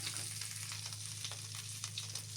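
Flour and garlic fry in ghee with a steady, close sizzling hiss and faint crackles, alongside a low, constant hum.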